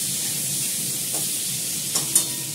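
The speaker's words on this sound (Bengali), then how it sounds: "এখন আমি কোনো মশলাই দেবো না, শুধু লাল করে ভেজে নিচ্ছি নুন দিয়ে" Potatoes frying in oil in a pan with salt, a steady loud sizzle throughout with a couple of brief stir scrapes near the end.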